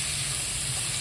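Sliced onions frying in oil, a loud, dense and continuous hiss with a low rumbling undertone, steady throughout and without speech.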